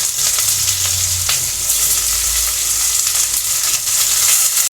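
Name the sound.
onions frying in oil with garam masala, green chilies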